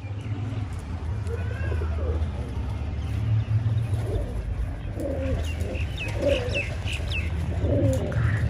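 Pigeons coo repeatedly in a loft, soft throaty calls rising over a constant low background hum, with a few faint chirps mixed in.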